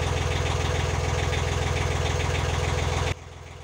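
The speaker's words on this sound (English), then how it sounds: "Running at just over 900 RPM." Narrowboat diesel engine idling steadily at just over 900 RPM, a loud, even low rumble with a regular knocking pulse throughout that cuts off abruptly near the end, with no talk.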